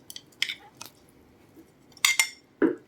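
Chopped tomatoes and peppers being mixed for kubba, with soft squishing and scattered clinks of a spoon against a bowl, sharper metallic taps near the end.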